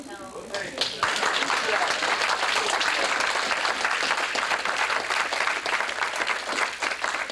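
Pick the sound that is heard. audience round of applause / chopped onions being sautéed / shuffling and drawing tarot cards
audience round of applause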